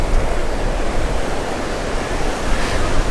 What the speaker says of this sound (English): It is a beautiful day at the beach.